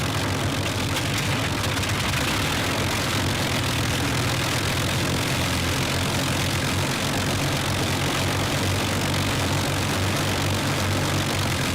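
Avro Lancaster bomber piston engines idling after start-up, a loud continuous rumbling drone with a steady low throb that holds evenly throughout, no voices.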